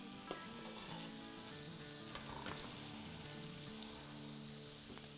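Halved tomato frying in a pan during a tawa fish masala recipe, a constant dense sizzle and crackle up close, with a few faint stirring taps and no voices.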